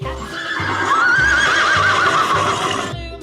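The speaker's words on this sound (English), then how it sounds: "Horse." A horse gives one loud, shrill neigh with a shaky whinny that carries for about two seconds, heard close up over a steady background.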